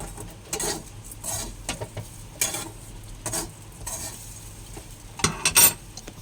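Thin flattened rice (chira) being stir-fried in a pan, with a steady run of scraping strokes and light rustling, a soft sizzle underneath and sharper metallic clinks of the spatula near the end.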